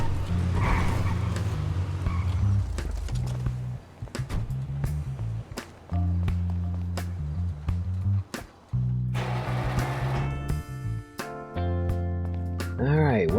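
A Grotti Visione (Viscerus) supercar driven in GTA V, its low engine drone rising and dropping through gear shifts at close range, punctuated by sharp cracks and whooshes, with tonal game sounds near the end.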